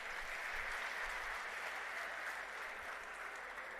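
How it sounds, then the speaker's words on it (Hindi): Crowd applause at a political rally in Kurukshetra, Haryana, a steady, even roar of many hands clapping at a distance, unbroken throughout over a faint low rumble. "तालियों के साथ स्वागत है।"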